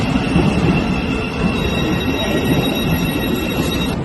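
A London Underground tube train rumbles loudly at a station platform, a dense steady roar of wheels and motors with faint high whine, no talk.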